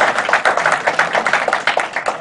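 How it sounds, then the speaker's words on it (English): Applause for a speaker at a Lean product and UX meetup, fairly close, rhythmic claps from a modest group of hands, rising and falling in quick pulses with no talk over it. "So let's give him a round of applause."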